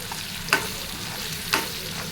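Onions frying with turmeric and a little salt for a broad bean curry, a steady soft sizzle with two brief stirring scrapes about a second apart.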